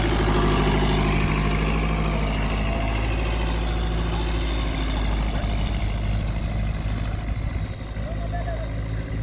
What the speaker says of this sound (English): Tractor now is taking position to offload.